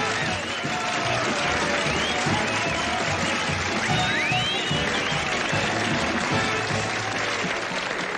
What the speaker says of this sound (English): it's so good to hear that applause